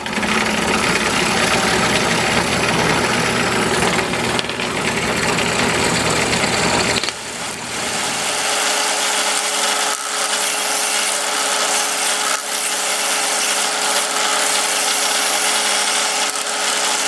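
A scroll saw cuts through an unfamiliar type of wood with a loud, steady rapid buzzing that runs nonstop; partway through the tone shifts as the blade settles into the cut, with no talking.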